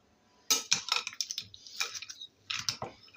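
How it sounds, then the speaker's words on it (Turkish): A spoon stirring cold yogurt soup with ice cubes in a bowl, giving close, quick clinks and rattles in two short bursts separated by a brief pause. "Hepsini ilave ettikten sonra karıştırıyorum"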